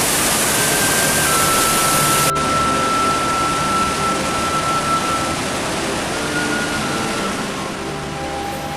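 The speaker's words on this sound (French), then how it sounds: "nous emmène à la Garganta del Diablo, la plus spectaculaire par sa puissance, sa hauteur de 82 mètres et son bruit de tonnerre" The Garganta del Diablo waterfall at Iguazu Falls, 82 metres high, gives off a constant broad roar of rushing water, loud and unbroken, with faint tonal hums above it.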